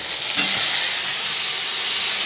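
Bottle gourd drops into a pan where bitter gourd and chilies are already frying, setting off a loud, steady, close sizzle and hiss that holds evenly throughout with no voices.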